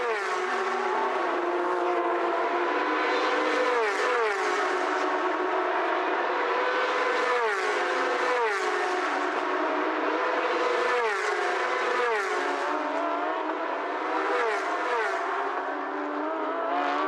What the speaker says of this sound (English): Tang Robin, who leads the championship in the white and red car, is a wee bit behind him as he goes into the hairpin at turn number 11.